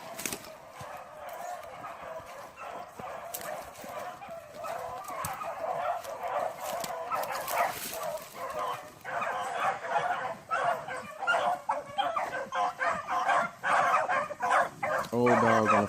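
An old chocolate-colored hunting dog on a rabbit hunt barks and yips repeatedly at middle distance outdoors, with whimpers in between and people talking faintly in the background.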